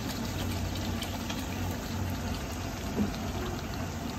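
Duck meat with potatoes and a little added water simmering in a pot as the fat renders, giving a steady soft bubbling hiss with one brief louder pop, no talking.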